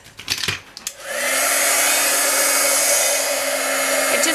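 Heat embossing tool melting white embossing powder mixed with glitter, a steady loud blowing roar with a faint whine that starts after a few light taps and runs continuously to the end.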